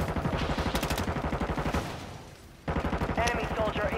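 Rapid bursts of automatic gunfire from a video game, a fast, steady rattle of shots that breaks off briefly and then resumes, with voices talking.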